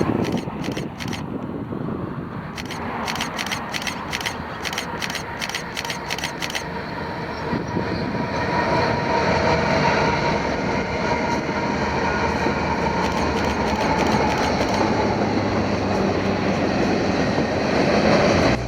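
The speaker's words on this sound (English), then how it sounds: "MRO&P came into view with a Gevo leading and the SD60M I mentioned earlier 6 out" A freight train led by a GE Evolution locomotive rolls past trackside in Utah, a loud, steady rumble of engine and rolling cars building and holding near the listener, with rhythmic clicking wheels early on.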